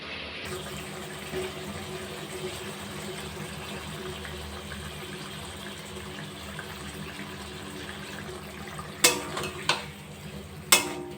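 Potol curry simmering in a pan as beaten sour yogurt goes in, a steady low sizzle and bubbling throughout, then a few sharp clattering scrapes of stirring near the end, close and moderately loud.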